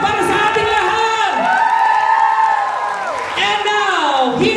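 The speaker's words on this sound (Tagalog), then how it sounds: "Ang milyon palakpak para sa ating lahat!" Crowd at a top-earners awards event cheering and shouting loudly and continuously, with whoops and possible clapping mixed in; the noise stays dense and close throughout, dipping briefly near the middle before surging again.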